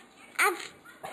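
A two-year-old child imitates a puppy's bark with two short, close yips, the first louder and longer than the second.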